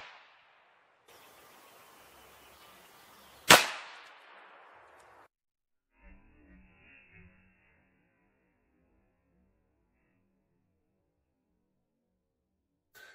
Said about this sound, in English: Modern air rifles are powerful.